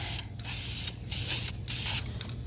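Four bursts of a spray gun hiss while painting wheel barrels, each lasting about a third to half a second, separated by short pauses over a low steady hum.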